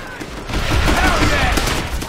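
Rifle fire in Call of Duty: World at War, a dense overlapping barrage of battle shots and rumbling explosions, loud and continuous with faint voices mixed in.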